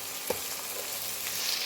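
Onions and ginger garlic paste fry in a pan with a constant soft sizzle, and a brief stir or scrape cuts through once near the start. Short and quiet, with no talking.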